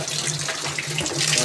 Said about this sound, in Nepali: अब यो पानी यति हालौँ, 20 सेकेन्ड पानी धाएर मिक्सिङ सफा गरौँ